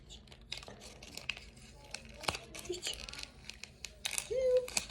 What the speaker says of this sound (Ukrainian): Знімаємо обережно скотч, щоб все не зламати.